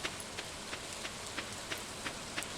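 Rain in the farming video game Stardew Valley, a soft steady hiss of falling rain with faint rhythmic ticks repeating about every third of a second, quiet and continuous.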